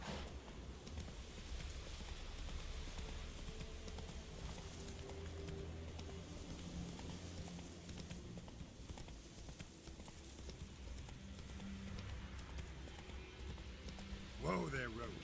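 Roach, a horse in The Witcher 3, gallops with steady rapid hoofbeats throughout, loud and close, over a continuous low background, with a brief sharp whinny-like burst near the end.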